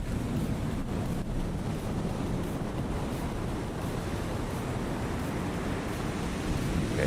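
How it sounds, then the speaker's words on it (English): Open-sea waves in the naval game War on the Sea make a steady, full wash and rumble with a windy hiss over it. The sound holds at one level the whole time, with no talking. "Okay, those are just sea waves."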